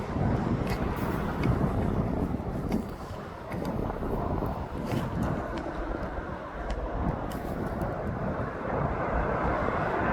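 A Ryanair jet airliner approaches to land at East Midlands Airport, a rumbling engine roar mixed with gusty wind buffeting the microphone, fairly steady with slight swells and dips.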